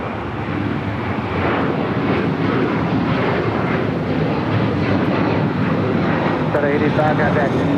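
A loud, steady engine roar comes from an Air China Boeing 777 freighter landing at LAX, with a voice talking over it.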